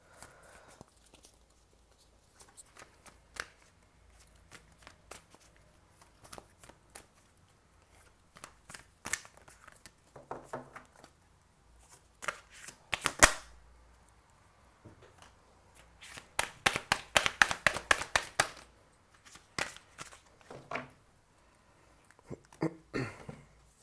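Cards being shuffled for a tarot-style love reading, with soft scattered riffles and taps building to a dense, loud burst of rapid shuffling near the end, close and with no talk.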